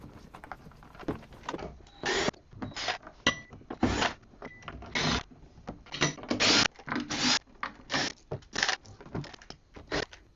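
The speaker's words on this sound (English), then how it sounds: "We're going to start by unscrewing the feet and removing all the screws off the bottom of the 1200." Screws are backed out of the feet and base of a Technics 1200 turntable with a power driver in a series of short, irregular whirring bursts, close up and separated by brief pauses.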